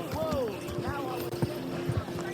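Horse hooves clip-clop in a medieval video game as a rider calms the horse, a few soft hoofbeats heard under steady talking and background ambience.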